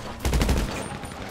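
A short, loud burst of rapid video-game gunfire in GTA RP rattles for about half a second, then fades into background noise.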